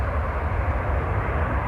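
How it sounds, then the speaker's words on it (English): A Brussels Airlines airliner lands at Manchester Airport, a steady, distant broadband roar of jet engines with low rumble, even in level throughout and with no voices. "Can't tell what that plane is there. Oh, it's Brussels."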